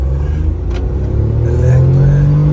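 Tata Nexon and Hyundai Creta in sports mode pulling off in a drag race, a loud, close, steady engine rumble that builds and rises in pitch toward the end.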